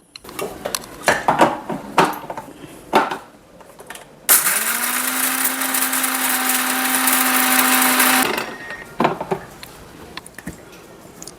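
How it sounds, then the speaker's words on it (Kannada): A kitchen mixer grinds rice flour and roasted gram in a loud, steady whir lasting about four seconds, framed by clattering of utensils and lid handling before and after. "ಸೊ ಇದನ್ನಷ್ಟು ಮಿಕ್ಸರ್ಗೆ ಹಾಕೋಬೇಕು."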